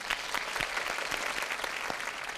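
Studio audience applause on a dating show, a brief burst of many hands clapping at an even level, fairly close and unbroken by speech.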